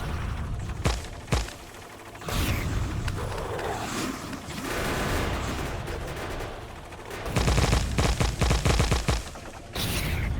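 Factorio gunfire against alien nests: rapid bursts of automatic shooting with dense crackling volleys and booms, loud and continuous with brief gaps, no talk over it.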